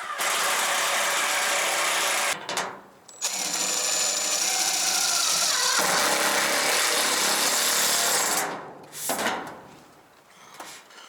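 Power driver sinking roofing screws through metal sheeting on a firewood shed roof, long loud whirring runs broken by short gaps, close by with no talk.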